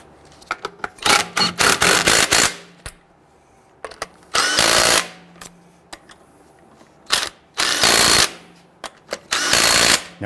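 Power tool, likely an impact wrench, snugs down the rear wheel lug nuts on a 2007-2014 Cadillac Escalade in several loud bursts of rattling whir, separated by short quiet gaps.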